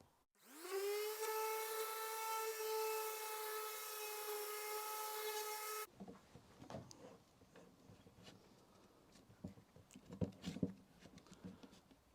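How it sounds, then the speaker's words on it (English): A corded orbital sander sanding wood on a small workshop fit-up job, spinning up into a steady, loud motor whine for about five seconds before cutting off, followed by quieter handling noises. "I'm going to take just a touch more off with the orbital sander"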